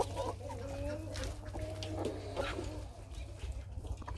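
A rooster and his hens cluck in a barn, with warbling, drawn-out calls repeating over a constant low hum, moderately close and quiet, with no talking.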